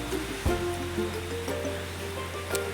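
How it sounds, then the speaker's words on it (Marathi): Heavy monsoon rain pours down on an Indian farm, a steady broadband wash of falling water with a few louder splashes and knocks rising out of it, close and continuous throughout. "बापरे पाऊस आला भरपूर"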